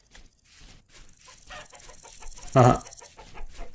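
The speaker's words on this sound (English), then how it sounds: "The rooster." A rooster in the video game Rust gives a short burst of clucking, with one loud crow-like call near the end; a person murmurs briefly at the start.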